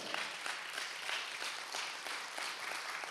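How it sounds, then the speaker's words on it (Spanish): Audience applause, a dense steady patter of many hands clapping together, moderately loud throughout with no pauses. "Era un aplauso al Señor"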